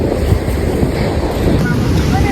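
Ocean waves break on a beach in Kollam, Kerala, a steady loud roar of surf and wash mixed with heavy wind buffeting, continuous and close with no pauses.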